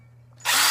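A power drill, handled by a child, whirs suddenly to life after a near-silent moment, a loud, close, high-pitched motor whine that holds steady to the end.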